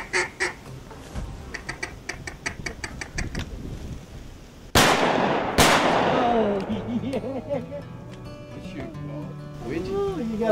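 Two loud shotgun blasts in quick succession while duck hunting at a prairie pothole, each with a long echoing tail, preceded by rapid duck quacking and followed by talking voices.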